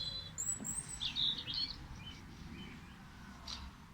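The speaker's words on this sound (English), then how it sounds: "You can hear the birds singing" Birds chirp and tweet outdoors on a farm on a calm morning, with faint, scattered high calls over a steady low background rumble.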